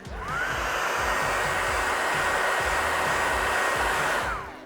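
Heat gun softening paint protection film along an edge of a Tesla Cybertruck, a steady loud blowing whir that ramps up, holds for several seconds, then winds down, with no talk.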